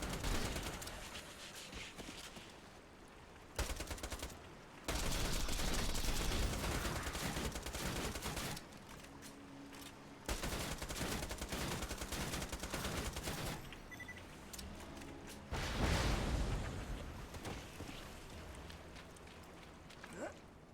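Gunfire from the Borderlands shooter game, a dense ongoing fusillade of automatic and single shots with loud bursts and brief lulls, mixed with game music and effects across the whole stretch.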